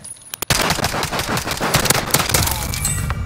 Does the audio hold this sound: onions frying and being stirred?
no